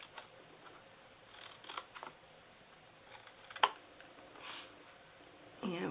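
Scissors make a few faint, scattered snips and crisp rustles while cutting scored paper pieces for a handmade gift basket, heard alone in a quiet room.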